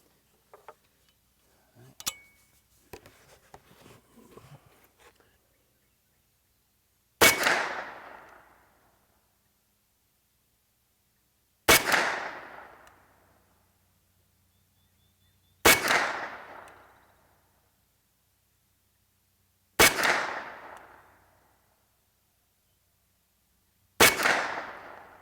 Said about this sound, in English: Now we're going to go ahead and shoot another 5 to 7 shot group.